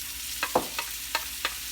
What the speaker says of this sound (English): I'll cook the onions a little bit, then we add the other ingredients